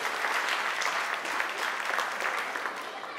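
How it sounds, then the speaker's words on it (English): A gala evening crowd applauds as the chief guest, a university professor, comes on stage: dense, sustained clapping from many hands, fairly loud and even, with no speech over it. "A round of applause for Dr."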